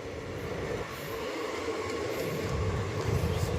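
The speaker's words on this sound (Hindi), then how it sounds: "देख सकते हैं एक पैसेंजर ट्रेन जा रही है इधर" Passenger train passing by, a continuous broad rumble of rail cars that swells slightly toward the end, heard from trackside outdoors with no clear talk.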